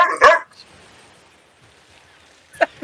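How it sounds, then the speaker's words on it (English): A dog barks loudly nearby, one sharp bark at the start and another shorter bark near the end, with near silence in between. "My dog just scared the living crap out of me."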